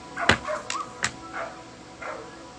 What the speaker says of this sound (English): Pretty sure that's my dog barking at somebody.